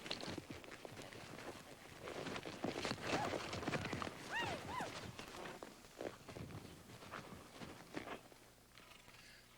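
Hooves of a horse used for working cattle clip-clop steadily at a moderate distance. A short whinny breaks in midway, and faint rustling continues underneath.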